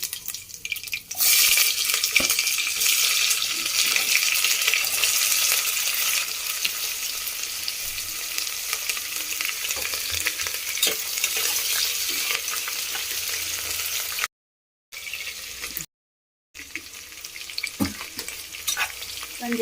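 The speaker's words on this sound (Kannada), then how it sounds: "ಎಣ್ಣೆ ಕಾದಿದೆ, ಸಾಸಿವೆ ಹಾಕೊಳ್ಳೋಣ. ಆಮೇಲೆ ಗುಂಟೂರು ಮೆಣಸಿನ್ಕಾಯಿ ಒಂದು 2-3. ಈಗ ಕರಿಬೇವು ಅದರಲ್ಲಿ." Mustard seeds, Guntur chillies and curry leaves hit hot oil with a loud, bright continuous sizzle and spatter that crackles on with only brief breaks, close up and with no voices.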